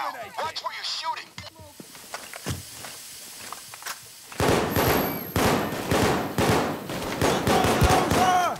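Heavy gunfire from a Payday heist on Death Wish difficulty: dense bursts of automatic and single shots crackle loudly and near, starting sparse and quiet, then erupting into sustained rapid volleys for the second half, with voices calling out between shots.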